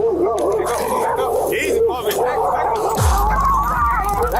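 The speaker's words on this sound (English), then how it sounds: "the homeowner's dogs sensed a disturbance and launched at the police" A homeowner's dogs bark and growl at police officers in a tense, cluttered scene, with excited human voices mixed into the commotion.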